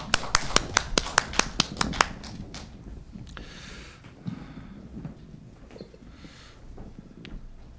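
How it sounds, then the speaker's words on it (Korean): Congregation clapping during a Lent dawn prayer service at a Korean church: a quick run of sharp, evenly spaced claps near the start, then dying away into faint scattered taps and low room noise. "하나님께 영광의 박수 올려드리겠습니다"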